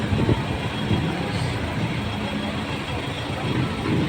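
Road traffic with cars and motorcycles near Bagasbas Beach on a fair-weather afternoon, a continuous dense engine rumble and hum at moderate distance with no clear single vehicle passing.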